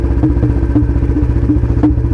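Royal Enfield Bullet 350 motorcycle with a loud free-flow L-bend exhaust, a close, heavy thumping single-cylinder beat pulsing steadily and loudly throughout the short stretch, with no speech.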